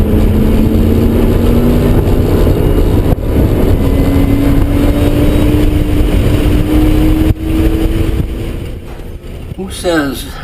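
A 2003 Ford Mustang Cobra engine, driven by its original owner, roars loudly and steadily, its pitch climbing as the car accelerates to pass a new GT350, with the sound easing off near the end.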